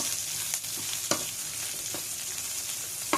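Sliced onion frying in a pan of oil while cooking ginataan, a steady close sizzle with a few brief stirring clatters, no voices.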